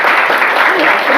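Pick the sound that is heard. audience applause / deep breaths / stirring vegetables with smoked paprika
audience applause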